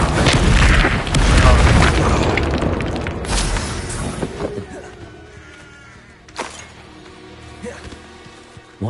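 The Incendio fire spell erupts in a video game, opening with a loud, roaring blast that rumbles for a few seconds, then fades into a softer crackling tail with a brief later burst.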